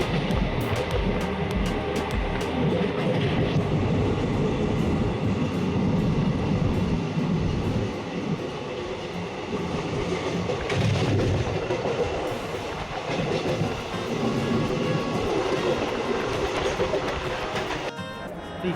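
A passenger train on the route to Digha rolls from Durgapur toward Asansol, producing a steady, loud rumble of wheels and carriages on the track with faint rhythmic clatter that continues unbroken for the whole stretch.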